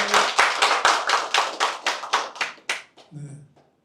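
Audience applause at a press conference by civil society elders calling for a halt to joint South Korea–US military drills, a dense burst of many hands clapping that fades out over a few seconds, with a brief voice near the end.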